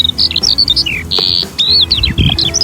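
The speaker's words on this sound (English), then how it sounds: "That's one happy bird." A bird sings close by in a string of bright, clear whistled phrases, the notes rising and falling with short gaps between them, on a calm, sunny, windless day on the South Downs Way between Buriton and Cocking.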